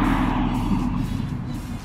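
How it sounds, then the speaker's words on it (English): Road traffic rumbles steadily nearby, a broad continuous wash of passing car and truck engines with no voices over it. "Traffic."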